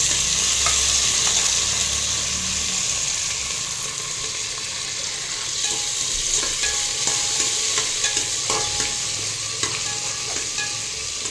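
Peas, potatoes and green chilies fry in a pan with a steady, close hiss and sizzle, broken by soft scraping as they are stirred, with no voices.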